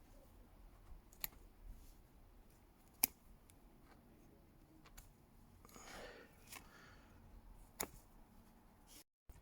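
Faint, sharp snips ring out as pruning shears cut branches on a buxus pre-bonsai, a few isolated clicks spaced seconds apart with a brief rustle of foliage in between, in a quiet room.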